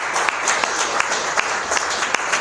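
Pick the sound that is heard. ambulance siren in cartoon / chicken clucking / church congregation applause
church congregation applause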